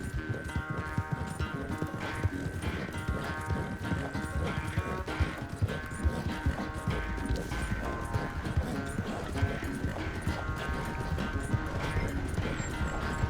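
A horse gallops in Red Dead Redemption 2 with a steady, rapid clip-clop of hooves, close by and continuous, over a bed of in-game ambience and music.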